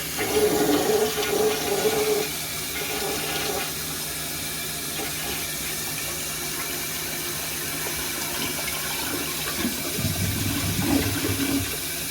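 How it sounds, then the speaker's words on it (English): A toilet flushes after its tank water level has been raised, opening with a loud rushing surge that settles into steady running and tank refill, then a second gurgling swell near the end, with no talking. "Now let's give it another flush."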